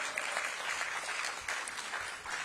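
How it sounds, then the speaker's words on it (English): An audience at a Washington, DC youth employment program event led by Mayor Bowser claps, moderately distant, fairly brief steady applause without talk. "Clap for that, y'all"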